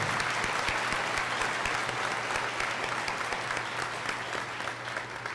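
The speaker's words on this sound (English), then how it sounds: "Can we give them a round of applause, please?" Sustained applause from a large audience at a high school graduation ceremony, dense steady clapping that fades slightly toward the end, with no talking.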